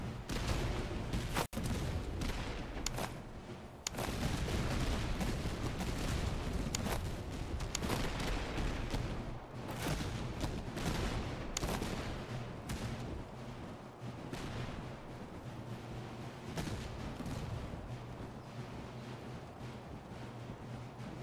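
Dense battlefield gunfire from a Master of Command game battle with Polish forces, with volleys of musketry and cannon blasts rolling continuously at steady loudness, one sharp heavy crack standing out early, with no talking.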